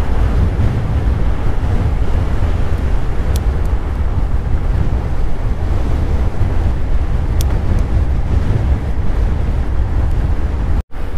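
Strong wind roaring continuously into the microphone during an e-mountain-bike ride downhill, a heavy low rumble with a brief dropout near the end.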